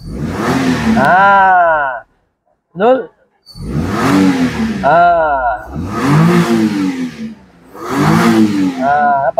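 A Perodua Viva 1.0 automatic with a newly replaced coil revs in repeated loud rising-and-falling bursts close by, with a short pause between the first and second; people talk briefly between revs.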